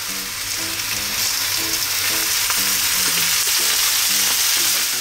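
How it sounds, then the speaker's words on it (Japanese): Cabbage sears in oil in a pan, giving a loud, continuous crackling sizzle close up, with soft repeated spatter pops and occasional light scraping, and no voices. "お好みの焦げ色になるまで、キャベツを焦がしていく感じです。"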